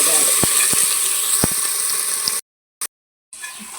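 Fresh-ground ginger paste frying in a pan gives a continuous crackling hiss with a few sharp clicks. The sizzle cuts out abruptly partway through, leaving near silence with one brief burst before it returns.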